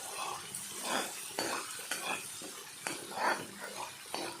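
Drumstick and onion palya frying in oil in a pan, with soft sizzling beneath repeated scraping and clinking strokes of a spoon stirring the mixture, fairly quiet and close.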